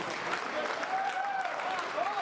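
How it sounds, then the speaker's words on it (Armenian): Applause from a crowd at a celebratory gathering, a continuous wash of clapping with voices and faint tonal sounds mixed in, moderately distant. "բարձր ծափերը"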